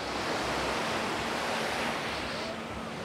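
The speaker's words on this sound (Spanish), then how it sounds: "Miren lo que es la playa, Completamente llena." Surf washes onto a crowded beach at Canasvieiras, Florianópolis, Brazil, a dense unbroken roar of waves and wind with no voices standing out.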